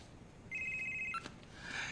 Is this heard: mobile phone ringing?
yes